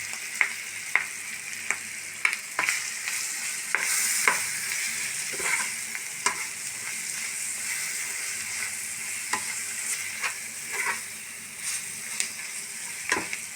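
Pork coated in masala sizzling in a pan while being stirred, a constant frying hiss broken by regular scraping clicks of the spoon, close and unaccompanied by speech.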